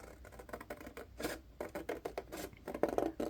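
Scissors cutting along a score line in cardstock for a mini tea-themed shaker album, giving a quick run of close, crisp snipping and rustling strokes in an uneven rhythm, heard alone.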